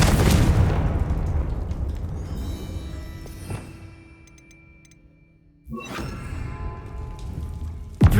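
A Confringo spell explosion in Hogwarts Legacy bursts loudly right at the start with a heavy boom and rumbling tail, fading into quieter ambience before a second blast erupts near the end.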